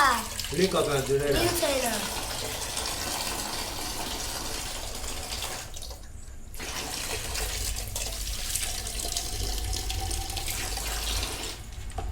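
Water pours into a new IFB washing machine on its first use, a steady rushing fill that runs for several seconds, with a brief clunk near the start and a short break partway through.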